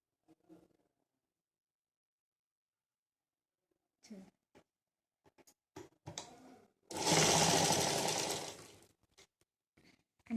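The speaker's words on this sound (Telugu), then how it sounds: "ఇట్లా నీట్గా ఒక కుట్టు పెట్టుకున్నాను" Sewing machine stitching a blouse border with a back-neck design, a dense burst of about two seconds mid-clip among scattered faint clicks of handling, with brief talk at the start.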